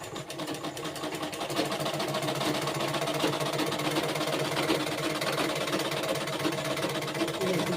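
A sewing machine stitches fabric in a steady, continuous mechanical whir with a fast, even needle rhythm, close and unbroken throughout, with no talking.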